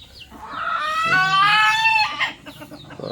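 Backyard chickens cluck softly while a rooster gives one loud, close crow lasting about a second, then quieter clucking follows.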